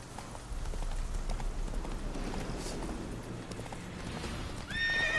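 Roach the horse galloping in Witcher 3, a steady close drumming of hooves running throughout, ending with a loud neigh near the close.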